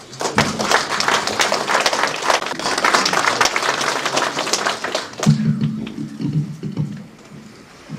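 Audience applauding at a Hamyang arts federation year-end party: dense, sustained clapping fills most of the clip, then cuts off and gives way to quieter room sounds and a faint voice.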